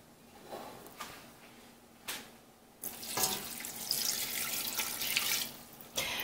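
Water runs from a tap into a pot holding blood orange peels and segments, a few short splashes first, then a sustained louder rush of filling water close by.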